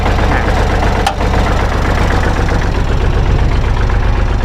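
A Kubota L3608 DT tractor from 2011 idles loudly and steadily up close, its diesel engine giving a constant rumbling drone with a brief dip partway through.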